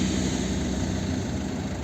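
A 1.6 diesel engine in a 2009 Volvo V50 runs smoothly and quietly, a low steady hum with a faint even pulse underneath.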